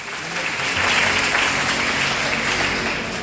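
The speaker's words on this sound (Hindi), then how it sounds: "एक बार जोरदार तालियां बजाएंगे।" An audience at a public gathering on Environment Day claps together in loud, sustained applause that holds steady for several seconds before easing slightly.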